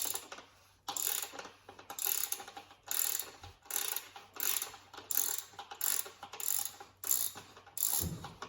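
Ratchet with a 32 mm socket and extension loosening the oil filter housing on a 2013-era VW MK6 CJAA TDI engine: steady repeated clicking strokes, about ten even bursts, close and clear with no talk.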